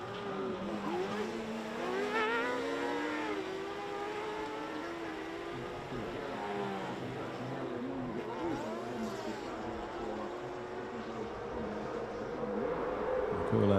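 Sidecar racing outfits on a dirt track at the Imatranajo 2022 race, engines droning and rising in pitch as they pass, heard at a moderate distance as a steady, sweeping roar without a clear pause.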